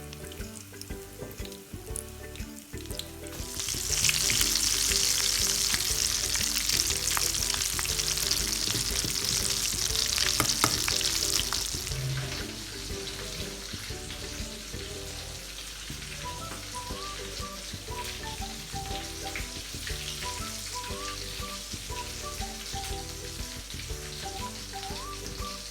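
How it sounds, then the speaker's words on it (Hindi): Egg-dipped potato sandwich dropped into hot oil in a kadhai, a loud, dense crackling sizzle that swells at first, then settles into a steadier, quieter frying hiss, close and continuous. "अंडे में डिप करके फिर इसको कढ़ाई में फ्राई के लिए डालना है ना?"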